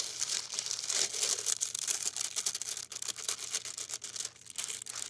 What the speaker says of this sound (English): you can use the parchment to lift and then line your pie shell